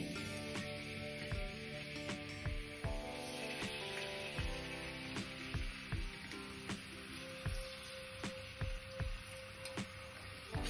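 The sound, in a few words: onion sautéing in a pan for masala Maggi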